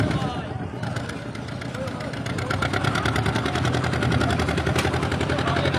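A ferry boat engine on the Gosaba river chugs in a fast, steady rhythm, close and loud, building slightly over the few seconds with a voice faintly underneath.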